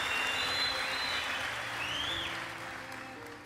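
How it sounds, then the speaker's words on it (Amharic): Audience applauding a woman, a steady wash of clapping that is fairly loud at first and slowly tapers off, with faint tones and murmurs beneath. "አጨብጭቡላት።"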